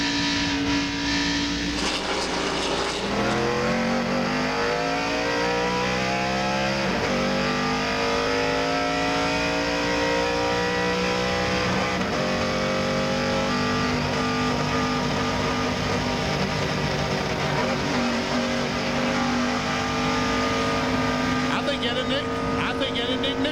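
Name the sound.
stock car engine with failing ignition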